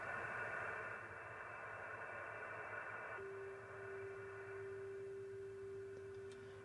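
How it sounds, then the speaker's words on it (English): Steady radio static and hiss from a software defined radio receiver, faint and continuous, with a thin tuned tone appearing partway through as the dial settles. "So you always hear static."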